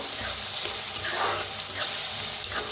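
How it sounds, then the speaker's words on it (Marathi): Food sizzles steadily in hot oil, a continuous hiss with occasional soft scrapes of stirring. "गरम असं तेलात भाजून घेऊया"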